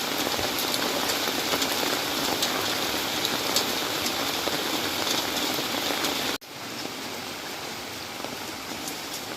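Heavy rain pours steadily onto a street in the Philippines, a dense, even hiss of drops on hard surfaces that dips briefly and then carries on slightly softer.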